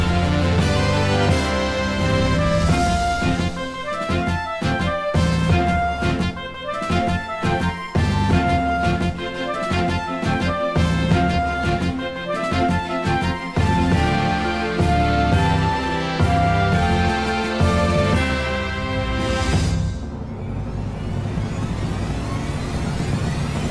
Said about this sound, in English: the whole orchestrated piece sounds something like this